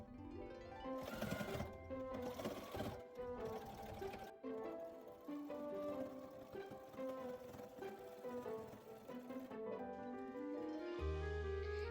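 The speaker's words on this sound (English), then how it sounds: "And here I am edge stitching the frills to the bodice so they stand up straighter" A sewing machine edge-stitching gathered frills onto a dress bodice, its motor running in a loud, continuous rhythmic whir with short pauses and changes of speed, and no talking.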